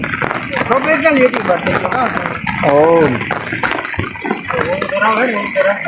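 A river in spate after rain roars steadily throughout, loud and close, while someone talks over it.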